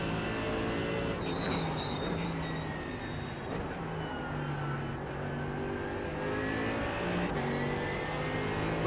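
Mercedes-AMG race car engine in the iRacing sim, accelerating hard out of a final corner while racing a pair of BMWs, a steady loud whining drone with rising harmonic pitch and no talk.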